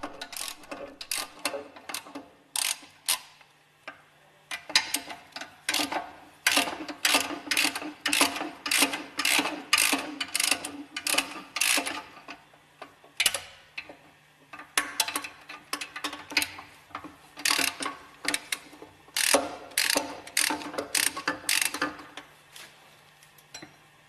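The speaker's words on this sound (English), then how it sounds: "Unscrew the hex head screws on the bearing housing." Hex head screws come out of the bearing housing of a Westfalia purifier with clustered metallic ticks and ratcheting clicks in quick bursts, close and fairly loud over a faint steady hum, no talking.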